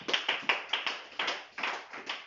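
A church congregation claps for Jesus in a quick, even rhythm of about four or five claps a second, fairly faint and heard alone without speech.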